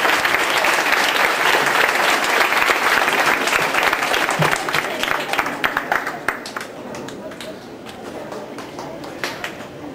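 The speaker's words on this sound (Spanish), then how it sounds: "Regalémosles otro aplauso de cariño a estos jóvenes" Sustained applause from a crowd honoring young people at a community event, loud and dense at first, then thinning and fading toward the end.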